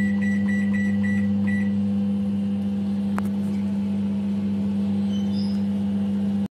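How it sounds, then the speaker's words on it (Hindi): A microwave oven heating peach juice hums steadily at a constant low drone, with a few faint beeps near the start and a click partway through. "इसको वापस माइक्रोवेव करेंगे,"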